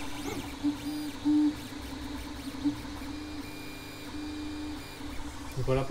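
Stepper motors of a Geeetech A10M dual-extruder 3D printer being tested, whining tonal runs that rise and fall with short louder bursts, over a steady fan hum, fairly quiet.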